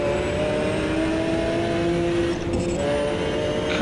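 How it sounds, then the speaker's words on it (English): Race car engine in the Automobilista 2 racing game holding a steady high rev before clutch release, a loud, constant droning buzz with other cars faintly audible around it. "let that rev counter settle before I release the clutch"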